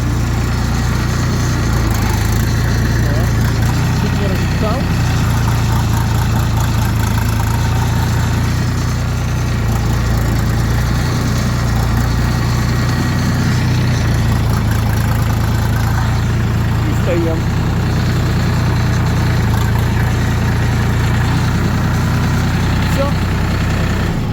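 A steady, loud tractor engine (DTZ) rumbles at idle throughout, low and continuous with no change in pace.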